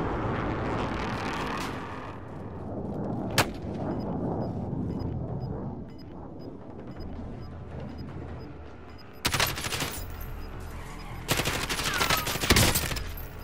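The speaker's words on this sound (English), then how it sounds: "Damn, I just headshot the opponent." Gunfire in the video game Call of Duty: Warzone, with a sharp single shot early on, then a dull rumbling background and later sharp loud bursts of shots near the end.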